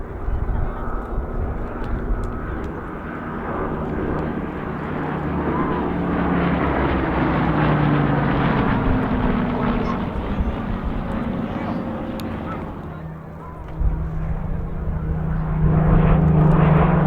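A Lockheed P-3 Orion, derived from the L-188 Electra airliner and flown by Norway, drones steadily overhead at an airshow in East Fortune in 2015. The engine roar swells and fades as a commentator talks over it.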